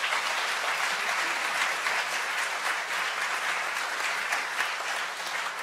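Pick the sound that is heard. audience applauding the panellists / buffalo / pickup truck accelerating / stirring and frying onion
audience applauding the panellists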